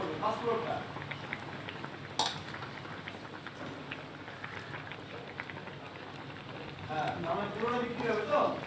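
Raw ground-lentil paste fritters (dal bora) go into hot oil in a frying pan, giving a continuous bubbling sizzle with scattered crackles that grow busier toward the end, under a speaking voice.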